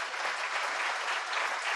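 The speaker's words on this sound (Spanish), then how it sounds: "Dele un aplauso al Rey bendito." Church congregation applauding steadily throughout, a dense, even wash of clapping from many hands with no voices over it.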